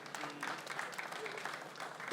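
A crowd at a comedy show claps in a steady, moderately loud round of applause, scattered individual claps distinct against the general patter.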